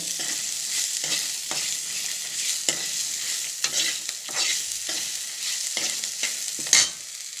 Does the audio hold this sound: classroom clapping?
no